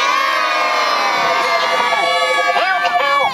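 Crowd of children and adults at an outdoor May fair Punch and Judy show lets out a loud, sustained cheer with high shouts and whoops, close and continuous throughout.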